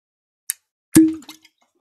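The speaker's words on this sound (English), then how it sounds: "I'm hoping maybe it has a good cork pop here" A cork pulls from a 2020 Yellowstone limited edition bourbon bottle with a faint squeak, then one sharp, hollow pop and a few tiny clinks, close and alone.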